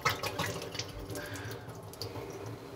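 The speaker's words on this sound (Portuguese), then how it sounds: "Então, passa a água de torneira." Tap water running to rinse a laboratory volumetric flask, a soft, fairly quiet splashing and trickling stream with some clinks of glass.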